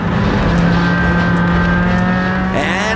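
Lotus Elise race car at full throttle on the Mugello circuit, a loud, steady engine drone held close for three seconds, with a brief rising whine near the end as another car draws alongside.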